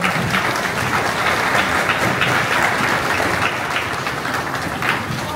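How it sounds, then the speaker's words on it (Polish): Steady, dense applause from a crowd at the 2024 opening ceremony of the indoor county swimming pool in Żuromin, Poland, holding at an even level for about five seconds with no voices standing out. "Brawa, drodzy Państwo."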